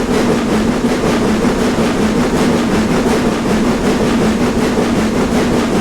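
Steam locomotive 75029, a simulated engine in Train Simulator Classic on a North Yorkshire Moors route, creeping up a bank: a steady, continuous rumble and rolling rail noise with a faint rhythmic beat, loud and close, with no voices.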